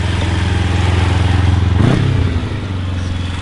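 A 2008 Kawasaki Ninja 250 idles with a steady buzzing drone, then briefly revs with a rising, clattery burst before settling back to a loud, even idle.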